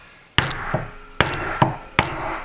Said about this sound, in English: Use a big whack-it hammer here.